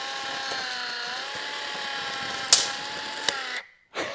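A Black and Decker AutoTape electric tape measure, with drilled-out holes in its casing, retracts with a steady motorized whine, then a sharp snap and a click before it cuts off.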